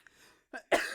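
A single burst of coughing near the end, loud and close, preceded by a shorter throat-clearing sound and faint breathy noise, with no speech.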